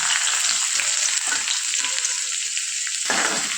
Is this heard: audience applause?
no